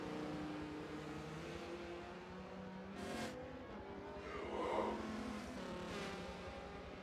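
Race cars in a Daytona 24 Hours endurance race in a racing video game, engines droning steadily as cars run side by side toward the start-finish straight, with a brief rising swell midway and a short voice exclamation.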